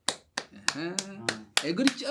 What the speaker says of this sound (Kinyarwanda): Komere n'amashyi menshi cyane.